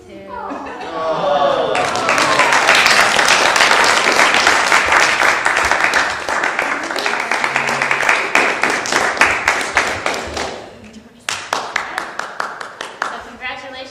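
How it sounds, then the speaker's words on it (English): An audience at a graduation ceremony breaks into loud, sustained applause with many hands clapping at once, then it thins into scattered claps that briefly pause and return. "Let's give a round of applause"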